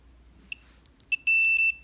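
A multimeter in continuity mode beeps as its probes touch copper commutator segments on a small moped motor: a quick chirp, a short pause, then a longer sustained tone broken by brief dropouts, fairly quiet overall.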